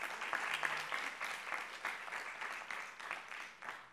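An audience at a public panel on government work applauds, a continuous, fairly soft crowd clapping with a steady, even texture and a few sharper individual claps scattered through.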